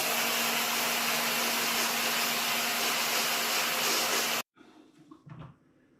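A food processor whirs loudly and continuously while mixing hummus made with tahini, a steady motor drone that cuts off abruptly, followed by faint clattering.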